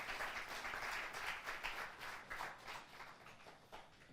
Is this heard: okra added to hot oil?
no